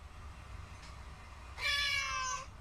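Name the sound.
recorded cat meows with reverb and delay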